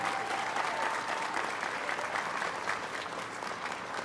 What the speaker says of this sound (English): Can y'all join me in a special round of applause for Representative Harrod?